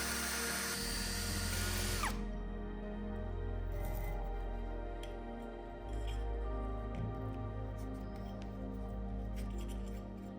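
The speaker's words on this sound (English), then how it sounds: "we drill some holes in the motor fins" A power drill whines loudly for about two seconds while drilling holes in electric motor fins, then a lower mechanical hum and faint clicks continue steadily with no talking.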